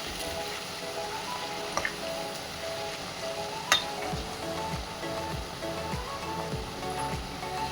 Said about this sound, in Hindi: सारी कमल ककड़ी को थोड़ी थोड़ी करके इसमें डाल देंगे। हमें इसमें क्रिस्पी होने तक इसको तलना है।